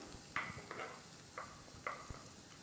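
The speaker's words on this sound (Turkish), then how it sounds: "Az cızır cızır sesler geliyor şu an" Onions and peppers frying in hot oil, a quiet steady sizzle broken by several short crackling pops and spits, with no talk.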